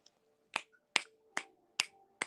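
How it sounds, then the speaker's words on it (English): Five crisp finger snaps at a steady, unhurried pace, close and clear, with near silence between them. "That's me snapping my fingers."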